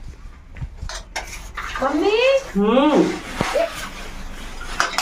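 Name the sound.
washing dishes, clattering pots and utensils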